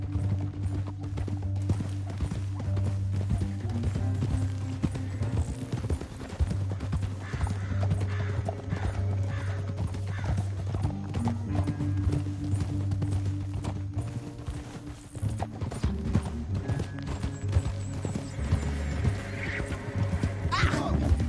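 Rhythmic clip-clop of horse hooves in the video game Red Dead Redemption 2, over a steady musical backdrop, with an occasional whinny, repeating evenly throughout.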